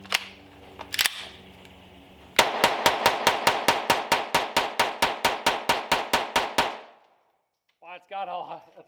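A Sig Sauer P322 pistol fires CCI Mini-Mag copper-plated rounds in a rapid string of about eighteen sharp, loud, evenly spaced cracks, followed by a brief pause and a short mechanical clatter.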